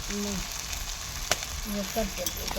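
Garlic-coconut masala paste sautéing in a pan, a steady close sizzle and crackle with light stirring, for a village-style dish cooked on a wood-fired stove.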